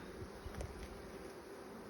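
Honeybees buzzing around an open cedar hive during an inspection, a faint, continuous close-up hum with no voices.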